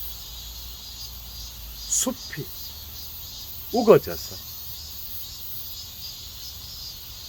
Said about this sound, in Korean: 매미 소리가 울고